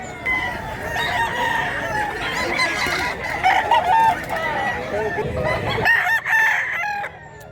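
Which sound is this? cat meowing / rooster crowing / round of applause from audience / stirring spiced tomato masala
rooster crowing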